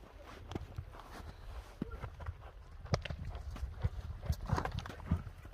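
Hooves of a racing horse named as a fast stallion at a buzkashi-style event in Nookat clatter in uneven, moderately near clip-clops over steady outdoor background noise, with no voices.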